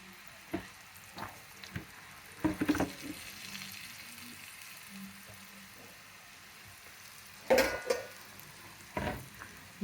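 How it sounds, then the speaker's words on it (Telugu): Peanut pakodi frying in hot oil over a medium flame, a soft steady sizzle broken by a few sharp bursts of crackle and spatter, with faint clinks of utensils and no talking. "మీడియం ఫ్లేమ్లో వేగాలండి."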